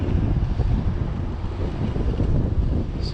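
Steady wind buffets the microphone on a 26-mile road bike ride around Pine Mountain, Georgia, a constant low rush that mostly hides the hum of the tires.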